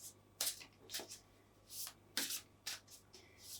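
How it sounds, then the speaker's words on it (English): Close, soft riffling and rubbing of oracle cards, several quick shuffles with short pauses between them, alone in a quiet room. "I'll shuffle my cards"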